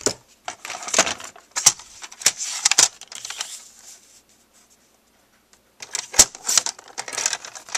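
Cardstock mat for a handmade buckle card being trimmed, with a run of close scraping and slicing strokes, a brief silent pause, then another quick flurry of cuts.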